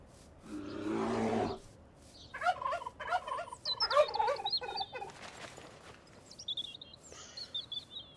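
Wild turkeys gobbling in a hunting video game, several loud rattling gobbles in quick bursts, preceded by a broad rumbling noise and followed by fainter high chirping calls, with no talking.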